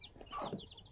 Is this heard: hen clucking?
yes